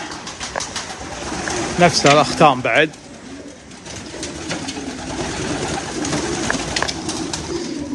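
French meat pigeons cooing in a loft or shop, soft repeated coos near and far beneath someone talking in Arabic, with a brief louder burst of activity midway.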